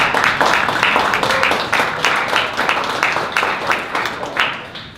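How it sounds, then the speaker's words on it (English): Audience applause welcomes a presenter at a 1 Million Cups Dallas startup pitch event, a dense, steady wash of many hands clapping for about five seconds before tapering slightly. "Thank you so much for the applause."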